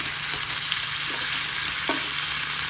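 Raw shrimp sizzle steadily in a hot pan during a stir fry, with an occasional scrape of stirring over the loud, continuous frying hiss. No one speaks.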